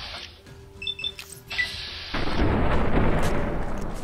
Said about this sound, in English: Trying out the shotgun.